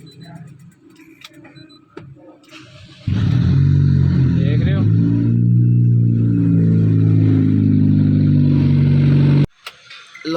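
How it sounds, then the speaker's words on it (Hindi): A car that cranked but would not start now idles steadily after starting, its loud engine drone holding from about three seconds to nine and a half, with someone talking briefly before it catches. "गाड़ी स्टार्ट हो गई है,"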